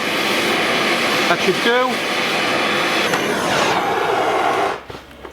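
A gas torch roars steadily and loudly up close while heating a rear beam nut on a Ford Escort Cosworth, a continuous rushing hiss that cuts off near the end; someone speaks briefly over it.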